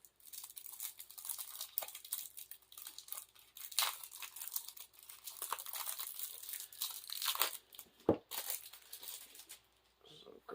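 A Marvel Champions Sinister Motives expansion card pack gets torn open, its plastic wrapper crinkling and ripping in irregular close bursts for about ten seconds, fairly quiet, with a sharper tear near the end and occasional muffled talk.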